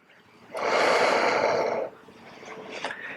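A person breathes steadily through a stretching exercise for a cyclist's hip flexor, one long, loud breath sustained for over a second, then quieter breathing follows.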